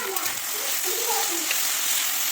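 Chilli thecha being sautéed in a pan with roasted peanuts, coriander, turmeric and salt, giving a steady hiss of frying with faint stirring, close and continuous.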